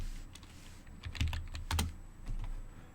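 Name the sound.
typing on a computer keyboard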